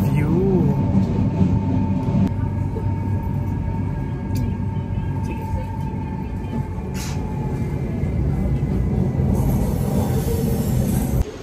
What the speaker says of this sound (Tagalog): nandito na kami sa loob ng train